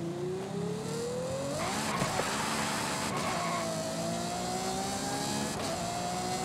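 A Ferrari engine in Forza Horizon 5 revs and climbs through the gears with a rising exhaust note, shifting once and pulling steadily, up close and alone.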